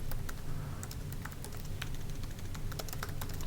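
Quick, uneven clicks from typing on a computer keyboard patter close and moderately loud over a low background hum, with no speech.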